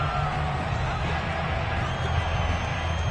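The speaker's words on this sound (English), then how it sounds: "Plenty of shouts from this crowd as they watch the replay" A football stadium crowd watching a replay during a Texans game fills the air with a dense, continuous roar of shouts and voices, steady and loud throughout with no breaks.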